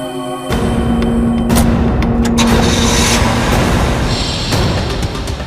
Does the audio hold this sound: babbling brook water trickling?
no